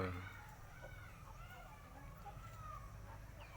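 Black-boned chickens cluck softly in the background, steady low murmuring over faint outdoor noise.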